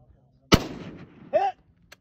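A single sharp rifle gunshot at a long-range desert shooting competition, loud and close with a short decaying tail, followed by a brief faint distant ring of a hit.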